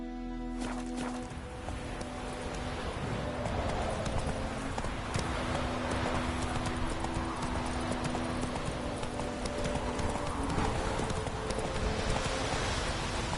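Roach the horse gallops in The Witcher 3, a steady, rapid clip-clop of hooves with rustling beneath, close and continuous from start to finish.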